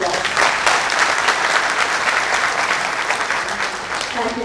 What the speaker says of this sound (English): Please help me in welcoming Mr. Sam Pitroda with a warm round of applause.